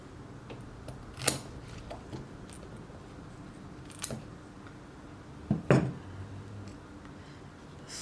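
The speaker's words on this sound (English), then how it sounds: "before that I will just give them a trimming" Scissors trim the leaves of a Monstera Peru houseplant, giving three sharp, isolated snips spaced a few seconds apart over a quiet background.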